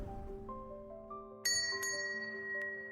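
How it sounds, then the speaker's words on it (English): A door bell in the video game Love Curse rings as a café door is pushed open, a bright metallic chime that rings out sharply partway through and lingers with a long, sustained ring, without talk. "The bell hanging on the door rings as I push it open."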